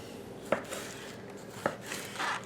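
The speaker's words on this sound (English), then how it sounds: "I'm going to slice this medium head of cabbage" A knife slicing a medium head of cabbage very thin into julienne strips, with two crisp blade strikes against the cutting board between quieter shredding and rustling, close and fairly soft.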